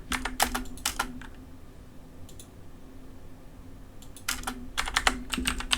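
Computer keyboard typing as commands are entered in CAD drafting software, with quick clusters of crisp close keystrokes at the start and end and a quieter pause with a few faint clicks in between.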